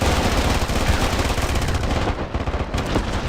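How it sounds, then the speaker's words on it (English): Rapid, sustained automatic gunfire from the mobile shooter Tacticool, a dense nonstop burst of loud shots lasting the whole moment with a brief dip near the end. "It's hilarious how fast he spits out bullets."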